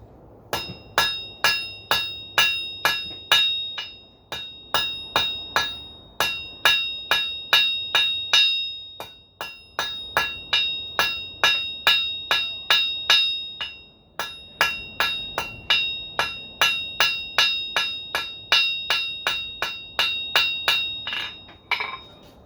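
Hot steel being drawn to a thin taper for a forge-welded fork, struck by a hammer in rapid ringing bursts of blows, each run of strikes bright and metallic with short pauses between groups, close and loud.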